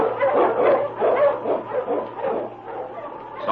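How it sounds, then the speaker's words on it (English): An Eskimo lead sled dog barks and yips repeatedly in a close, boisterous series over a low steady hum, in a vintage Yukon radio-drama recording. "The Wonder Dog King, swiftest and strongest of Eskimo lead dogs, blazes the trail through storm and snow for"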